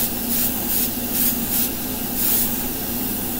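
An airbrush-style Timaya spray gun sprays Badger Stynylrez colored primer onto a butter knife, a constant airy hiss with soft rhythmic swells as the spray passes, close and steady with no talk.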